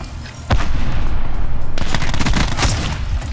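A close-range gunfight in a Call of Duty: Black Ops multiplayer free-for-all match, with sustained loud automatic fire and booming impacts erupting suddenly and pounding on densely, near and with no speech.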